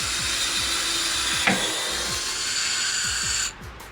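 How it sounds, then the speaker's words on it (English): A power drill boring steadily through a Nissan GT-R door, whining continuously for several seconds with a brief clunk midway, then stopping as it breaks through. "I'm just going to drill all the way through until I punch through the other side on the door."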